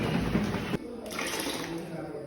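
Water is poured into paint, a short gurgling splash that cuts off abruptly, leaving a quieter trickle and faint background noise.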